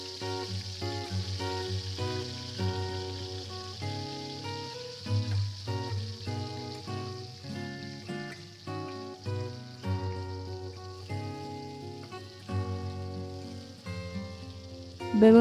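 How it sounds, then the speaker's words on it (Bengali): Marinated eggplant pieces sizzle and crackle steadily in hot oil in a pan, a continuous frying hiss with soft pops and a low background hum, no voice present. "তেল কিছুটা গরম হয়ে এলে এতে দিয়ে দেব আগে থেকে ম্যারিনেশন করে রাখা বেগুন।"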